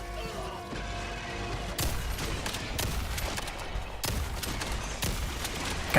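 An incendiary shotgun firing in the video game Helldivers 2, a rapid series of sharp, loud blasts layered with crackling burning and clattering impacts amid the chaos of combat.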